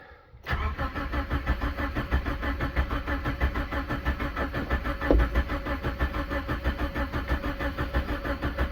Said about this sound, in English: Well, it's turning over, but it's not lighting